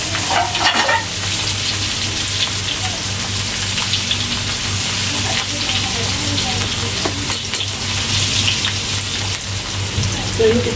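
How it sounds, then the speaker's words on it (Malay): Food sizzles and crackles steadily in a hot pan, a loud, dense frying hiss that runs without a break, with occasional stirring clatter. "Jadi kita goreng dia"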